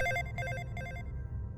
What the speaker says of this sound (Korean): 그러던 어느 날 내 핸드폰이 울렸다.